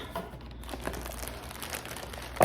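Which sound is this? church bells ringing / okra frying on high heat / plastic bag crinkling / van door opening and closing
plastic bag crinkling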